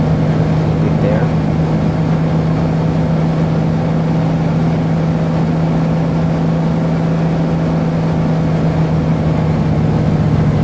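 Steady, loud drone of a simulated Cessna CT206 aircraft engine held at 1800 RPM in X-Plane, an unbroken even hum with a strong low tone, while someone speaks over it.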